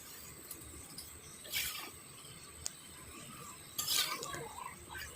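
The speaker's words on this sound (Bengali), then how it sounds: "পুরো মশলাটাকে মাখিয়ে নিলাম, পুরো মাংসটাতে পুরো মশলাটা যেন মেখে যায় সেই মতো।" Meat coated in spices is stirred in a pan over a low flame, with a couple of soft scraping, clattering strokes against a quiet background hiss.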